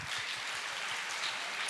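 An audience applauding at an Italian training-program event, with steady dense clapping filling the whole moment at a moderate level and no voices over it.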